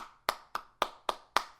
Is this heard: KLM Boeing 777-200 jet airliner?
no